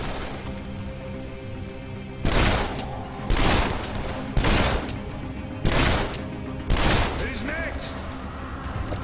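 Several loud, sharp revolver shots in the video game Dead Island fire at slow, evenly spaced intervals, heard over a busy background with a voice talking.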